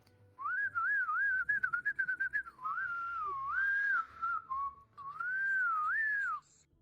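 A person whistles a wavering, sliding melody alone in a quiet room, a series of clear, close tones with a few short staccato notes early on and longer swooping phrases after.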